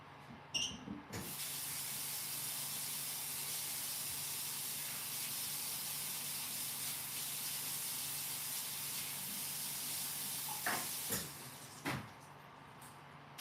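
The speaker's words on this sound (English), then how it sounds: "new cutting board and wash the knife" A kitchen tap runs steadily for a knife wash during salmon meal prep, a continuous close hiss of water lasting most of the stretch, with a few clunks near the start and end.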